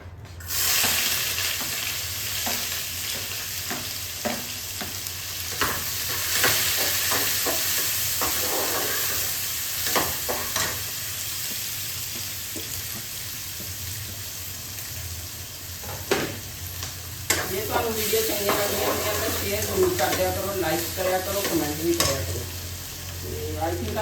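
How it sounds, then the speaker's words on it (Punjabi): Onions frying in hot oil in a pan, a continuous crackling sizzle with scattered spatula scrapes and stirring clatter throughout, growing busier toward the end, with no speech. "ਤੇਲ ਆਪਣਾ ਗਰਮ ਹੋ ਗਿਆ ਤੇ ਹੁਣ ਆਪਾਂ ਇਹਦੇ ਵਿੱਚ ਪਾਉਣ ਲੱਗੇ ਆ ਪਿਆਜ਼"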